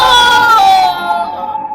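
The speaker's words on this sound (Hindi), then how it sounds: "वो जोर से चीखा और फिर उसकी आवाज बंद हो गई।" A man lets out a loud, pained scream in an animated Hindi horror story about a demon. The cry is close and wavering, falls in pitch and trails off abruptly.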